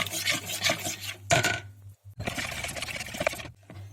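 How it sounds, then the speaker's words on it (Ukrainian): A spoon clinks and scrapes around a bowl in quick bursts, stirring a gelatin jelly mixture close up with brief pauses between strokes. "І гарно-гарно вимішую, щоб не залишалося грудочок і нерозширеної галяретки"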